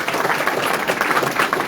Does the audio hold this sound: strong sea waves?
no